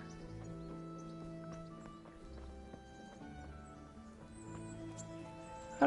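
A horse in the video game Kingdom Come Deliverance makes soft, irregular hoof clops as it slows by a roadside rock, under sustained tonal game music, with a brief sharper burst at the very end.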